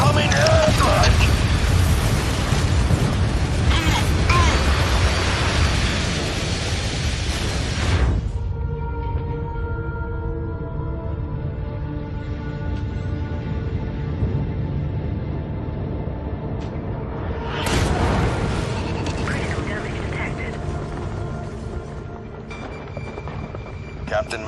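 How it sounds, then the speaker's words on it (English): Incoming airstrike in the MechWarrior 5: Mercenaries mech game: a loud, sustained roar of explosions and rumbling for about eight seconds, a quieter stretch with radio voices, then another burst of blasts. "Incoming airstrike!"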